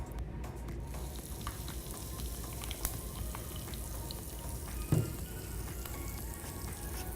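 A steady soft fizzing and crackling of Pop Rocks candy in water, like tiny bubbles popping, continuous and fairly quiet, with one brief louder knock.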